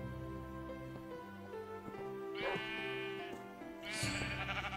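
Sheep bleating in Minecraft, several wavering bleats in a row, close and fairly loud, with no talk over them.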